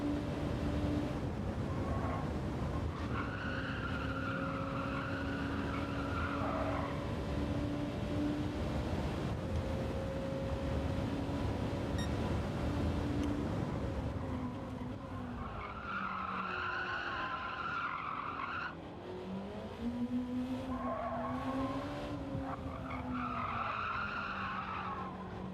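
Race cars in Gran Turismo 7 skid and squeal through corners in an online lobby race, tire screech rising and bending over a steady engine drone that runs loud and continuous throughout.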